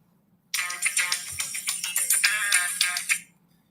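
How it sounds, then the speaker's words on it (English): A mobile phone ringtone suddenly starts and plays loudly for about three seconds, a bright rattling melodic tone over a faint low hum, then stops abruptly. "my phone keeps going off"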